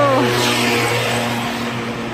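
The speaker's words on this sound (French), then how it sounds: "il y a plein de voitures qui passent comme par hasard dans cette rue" Car passing along a usually empty street at night, a steady engine hum close by that slowly fades, with no talk.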